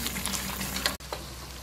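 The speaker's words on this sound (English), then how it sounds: "Then stir and leave it to fry till I get the result" Dried pepper and onion sauce for prawns fries in a pan with a steady, close hiss and crackle that drops out briefly for an instant before continuing.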